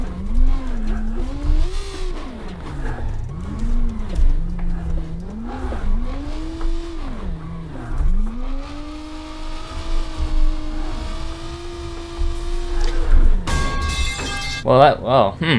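In the BeamNG Drive video game, a car's engine revs rise and fall while it drifts with squealing tires, under steady commentary from a man, and it ends with a sharp crash-like burst.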